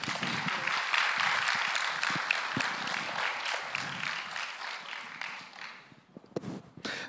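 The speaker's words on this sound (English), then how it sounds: "Applaudissements," Audience applause at a fan convention panel, a full crowd clapping loudly at first, then thinning out and fading toward the end, leaving a few scattered claps.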